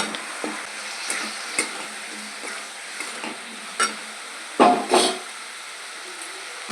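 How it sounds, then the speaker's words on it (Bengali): Fried potato and capsicum are tossed into oily, well-cooked spiced masala in a pan, producing a steady close sizzle with intermittent scraping stirs and a few louder clattering bursts, no talking over it. "এবার দিয়ে দেবো সেই ভাজা আলু আর ক্যাপসিকামটা"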